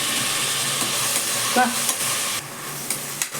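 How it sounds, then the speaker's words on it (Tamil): Soaked chickpeas are stirred into frying onion and tomato in a hot pan for chana rice, giving a steady close sizzle with a few scraping spoon strokes against the pan. "கொண்ட கடலையை நல்ல வெங்காயம் தக்காளியோட நல்லா போட்டு மிக்ஸ் பண்ணிவிட்டு"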